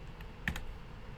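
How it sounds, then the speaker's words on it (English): A single computer keyboard key is pressed during photo-editing work, giving a short, faint click or pair of clicks against a quiet background hum. "let's just hit C on our keyboard"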